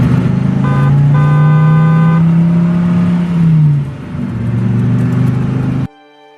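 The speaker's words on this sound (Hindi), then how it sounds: "फिर साहूकार भोलाराम को अपनी गाड़ी में बैठाकर सीधे अपने घर ले जाता है।" A moneylender's car engine runs loud and close, holding a steady hum with a brief horn-like tone before it rises and pulls away, then cuts off abruptly.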